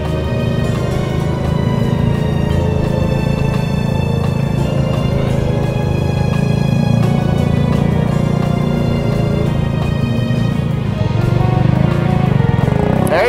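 A Grom motorcycle engine runs loudly and steadily close by as a learner rides it, revving and holding a throaty drone throughout, with no talking.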